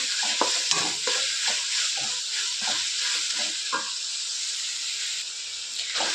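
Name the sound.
tomato slices frying in pan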